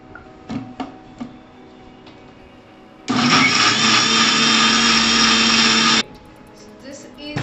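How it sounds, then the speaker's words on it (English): A hand blender purees food in a pot for about three seconds, a loud steady whirring motor that starts and stops abruptly between quieter kitchen clatter. "we're going to just dip it into the blender. If you have a hand blender, go ahead and do that."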